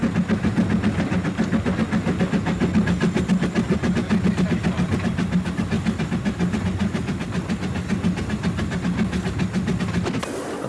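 A Welshpool & Llanfair Light Railway steam train goes by close at hand, its rhythmic chuffing and rolling wheel beat loud and steady throughout before dropping off abruptly at the end.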